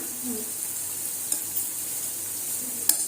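Banana flower vadas fry in oil with a steady soft sizzle, broken by a few light scrapes and taps as they are turned; no voices.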